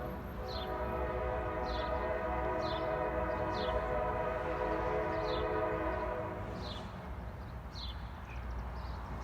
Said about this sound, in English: definitely a train coming